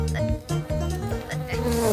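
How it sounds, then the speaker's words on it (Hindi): Mosquitoes buzzing in a Hindi-language scene, a close, steady whine that keeps going without pause, with a few brief thumps and changes in pitch running through it and no voices. "जहाँ देखो वहाँ मच्छर ही मच्छर।"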